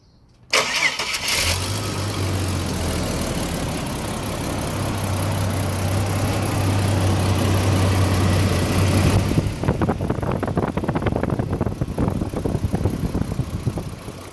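A Ford XG van engine cranks and fires after a front belt pulley bearing change, then settles into a steady idle with a low hum, recorded close by with no talk.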